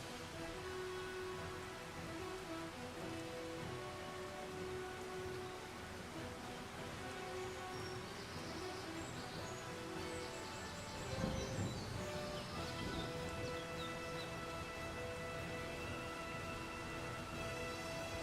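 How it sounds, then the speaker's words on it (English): Steady rain falls in the Farming Simulator 25 video game, a dense, continuous hiss of drops on surfaces that holds even and loud throughout, with a brief swell partway through and faint bird-like tones mixed in. "I love rain noises."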